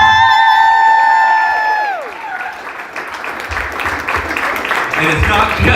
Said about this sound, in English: Give a round of applause for the woman responsible for every single display in the Hip Hop Museum.